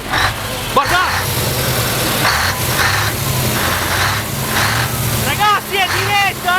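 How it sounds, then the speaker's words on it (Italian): A Turbo Star tractor from the Padua area roars with a low, steady engine drone throughout, under excited talk and shouting voices from people nearby. "fammi sentire un po' di rombo, dai"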